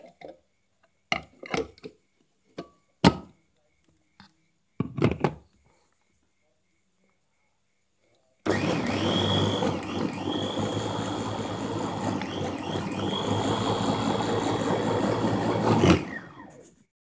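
An electric mixer blending ground meat with seasonings, starting after a few sharp clicks and knocks and running as a steady loud whir for several seconds before cutting off.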